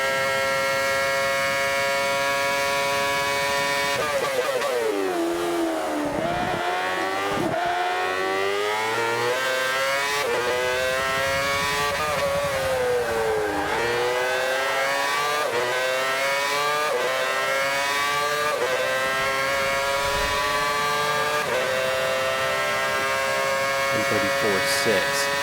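Formula One race cars screaming in the F1 2014 video game at the German Grand Prix qualifying, a loud continuous engine whine that rises and falls sharply with gear shifts and braking, with a voice talking over it.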